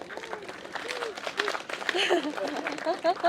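Wedding guests clap for the bride at a reception, with a moderate patter of applause mixed with cheering voices and chatter that grow louder toward the end.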